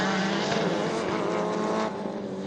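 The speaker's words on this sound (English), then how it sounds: "Right on board the Hyundai i20 open class car of Aaron Windus." Onboard a Hyundai i20 open class all-wheel-drive rallycross car racing in an Australian championship round, the engine roars loud and close at high revs, holding a steady strained note before dipping slightly near the end.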